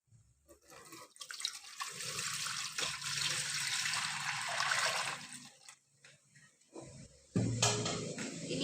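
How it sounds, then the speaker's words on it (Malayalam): Warm water is poured from above into a basin set up for a home pedicure. A steady splashing gush runs for several seconds, pauses briefly, then resumes close by with no voices. "ഇനി ആ ബേസിനിലോട്ട് ഇളം ചൂട് വെള്ളം ഒഴിച്ചു കൊടുക്കാം."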